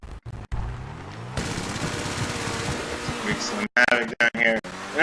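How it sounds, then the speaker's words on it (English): Rapid gunfire during a police shootout in a video game, dense bursts of automatic fire with someone talking over it, then choppy broken bursts toward the end. "actually do a quick police shootout"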